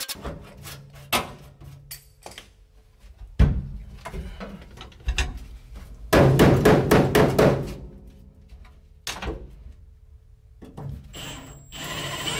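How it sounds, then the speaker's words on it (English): Sharp metallic impacts and rattling bursts from an air hammer chipping a Ford F100 floorboard, coming in irregular short runs with a longer sustained rattle midway. "you'll see that the air hammer will just chip it right up"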